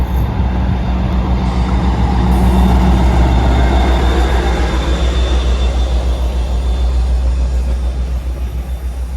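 Intercity carriages hauled by locomotive 57.306 on a rail journey toward the Peak District, giving a steady, loud, continuous rolling rumble with faint rhythmic wheel beats throughout.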